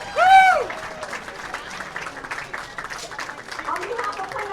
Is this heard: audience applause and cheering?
yes